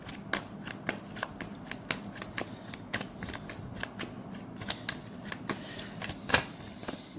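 Tarot cards being shuffled by hand close to the microphone: a quiet, steady run of soft flicks and riffling snaps at an uneven rhythm, with no talking.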